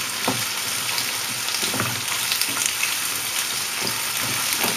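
Carrots stir-fry in a wok over high heat with ginger and garlic, giving a steady, close sizzling crackle with soft stirring taps and no talking.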